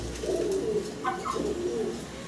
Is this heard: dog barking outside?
no